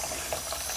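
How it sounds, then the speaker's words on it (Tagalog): Shower water runs while a baby bathes with her mother, a steady broadband hiss and splatter of falling water, even and close for under a second, no voices. "Ellie's taking shower, guys"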